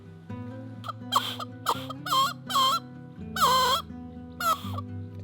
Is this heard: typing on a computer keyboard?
no